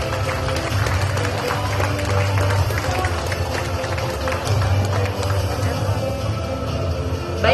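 An audience at a Jakarta transport integration event held for Anies Baswedan gives steady, dense applause that runs continuously and loudly, with crowd noise mixed in.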